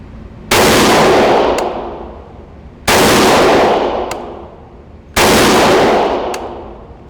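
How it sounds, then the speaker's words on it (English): Three loud, sharp rifle shots from a Springfield Armory Hellion 5.56 bullpup fired at 25 yards outdoors, each a close, cracking blast with a long fading echo, spaced about two and a half seconds apart. "shoot at 25 yards"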